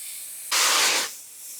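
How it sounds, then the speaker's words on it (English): A garden hose spray head at an allotment plot bursts into a loud, hissing spray for about half a second and then cuts off, set against a quieter steady background hiss. "Wow, that is quite a spray."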